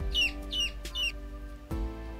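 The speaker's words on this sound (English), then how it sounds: "Next, we have some spring chicks." Spring chicks under a red heating lamp peep in three quick, high-pitched chirps close by, then a short pause and a soft thud against a steady low hum.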